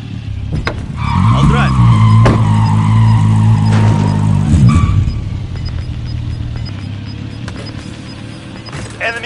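A car in a first-person shooter video game revs and drives off with a loud, close engine growl and tire squeal, which fades into softer rumbling and scattered game sounds.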